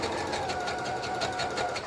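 A sewing machine stitches a pleated woven skirt, humming steadily and close up, with a fast, even stitching rhythm and no pauses or talk.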